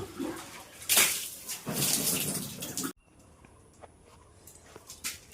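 Water poured and splashing onto newly built house stairs, loud bursts of gushing and spattering for about three seconds, then quieter drips and faint background sounds.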